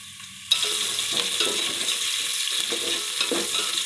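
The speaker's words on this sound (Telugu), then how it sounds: "ఉల్లిగడ్డ తొందరగా ఫ్రై అవుతుంది" Onion and green chilies hit a hot pan and start frying, a sudden burst of sizzling that settles into a steady close hiss with soft stirring scrapes, no talking.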